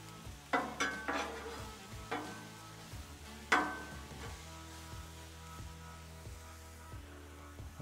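Zucchini and onions sizzle on a Blackstone griddle, a soft steady frying hiss punctuated by several sharp scrapes and taps of a spatula on the flat-top, with a low hum beneath.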